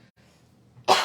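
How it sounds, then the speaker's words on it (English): A single harsh cough bursts out loud and close after near silence, abrupt and brief at the very end. "you got me coughing too"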